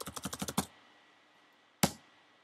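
A short burst of about eight quick keystrokes on a computer keyboard, followed by a pause and one sharper final key press, close and clear with no voices.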